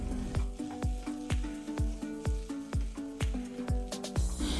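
Tomatoes and spices for a coconut-milk chicken curry fry in a pan, sizzling softly beneath a regular rhythm of about ten spoon strikes against the pan as the mixture is stirred.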